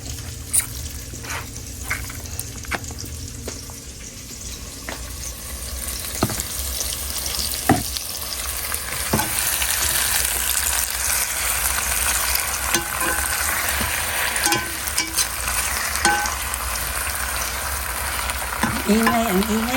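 Chicken sizzles and crackles steadily in hot oil in a pot, with occasional stirring scrapes and clanks, close and continuous throughout.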